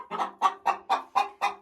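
Hens clucking in nest boxes, one bird driving another off a nest: six evenly spaced clucks in a steady rhythm, close and fairly loud, with no voices.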